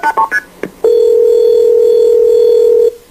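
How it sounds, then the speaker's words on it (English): On a 911 emergency line, a few quick telephone keypad beeps are followed by a loud, steady line tone that holds for about two seconds, then cuts off. "Let me get this 911 call"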